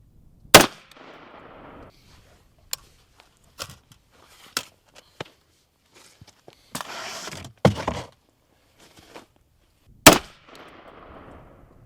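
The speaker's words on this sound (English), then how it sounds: "we're just gonna shoot off the camera case here and hope that that does a little bit better." Bushmaster Bravo Zulu rifle fired outdoors: a few sharp, loud shots spaced seconds apart, with softer clanks, thumps and handling noises in between.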